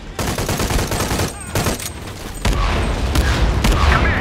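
Dense bursts of gunfire crackle and boom in rapid succession in the video game Shadow of the Tomb Raider, loud and close, with heavier blasts rolling in toward the end.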